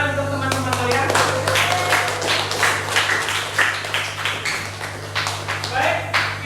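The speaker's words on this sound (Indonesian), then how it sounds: "Kita beri tepuk tangan untuk teman-teman kalian." Classroom of students clapping for classmates during a geography lesson, a steady burst of many hand claps over several seconds, loud and close, with a voice speaking briefly at the start and an electrical hum underneath.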